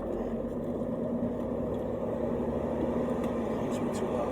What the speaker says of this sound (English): Air conditioning on.